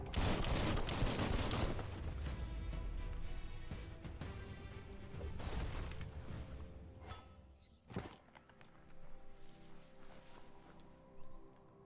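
Video game gunfire, a dense clatter of shots and crashing impacts at the start that thins out into scattered hits and bangs, moderately loud with no voices.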